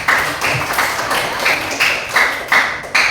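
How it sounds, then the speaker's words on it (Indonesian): A classroom audience claps for a student in a Christian religious education lesson, a short run of fairly loud, evenly spaced claps with a rhythmic, almost tapping pulse. "Kasih tepuk tangan buat."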